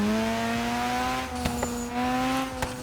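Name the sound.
Mazda RX7 turbo engine sound in Forza Horizon 3 video game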